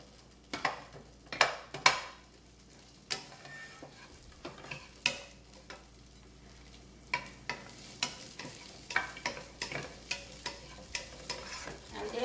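Onion frying in a pan on high heat for sweet and sour chicken, a soft continuous sizzle broken by repeated sharp scrapes and clacks of a utensil stirring against the pan, close by with no talking.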